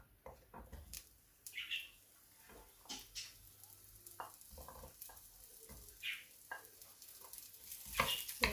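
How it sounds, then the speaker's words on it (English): Onion sautéing in a pan for pinakbet, a soft sizzle with scattered stirring scrapes and clicks of a utensil against the pan, close and moderately quiet, no talking. "first thing I'm sauteing is that the"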